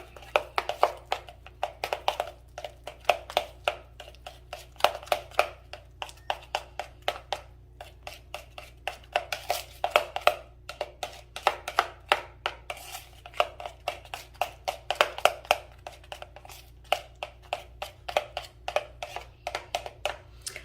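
A spoon scrapes and taps against a bowl while egg salad is mixed with whipped cream cheese, giving rapid irregular clinks and thumps with no talking.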